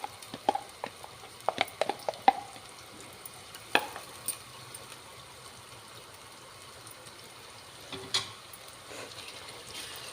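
Curry leaves and ginger garlic paste fry in hot oil for Andhra-style fish pulusu, with soft sizzling and a few sharp crackles and spatters early on, then a quieter steady hiss with occasional stirring clinks.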